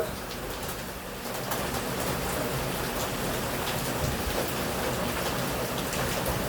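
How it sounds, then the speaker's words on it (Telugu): Rain falls on houses in a steady, dense patter, a broadband hiss that swells slightly after the first second and then holds constant, with faint bird calls in the background. "వాన అయితే పడుతుంది ఫ్రెండ్స్"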